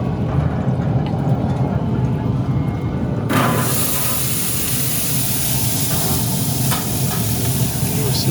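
Sweet potatoes sizzling on a grill, a steady hissing fry that jumps brighter and louder partway through as they go onto the heat, continuing evenly with no talk.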